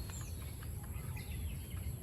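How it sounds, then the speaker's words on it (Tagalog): Faint bird calls and chirps from birds up in a guava tree, scattered and distant over a steady outdoor background hum. "May mga ibon dun sa taas ng bayabas"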